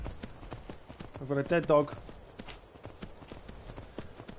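A horse in the video game Skyrim trots along with a regular, fairly close clip-clop of hooves throughout, while someone talks briefly over the rhythm.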